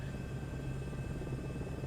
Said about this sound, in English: This is the helicopter that has the highest chance of making it in the game.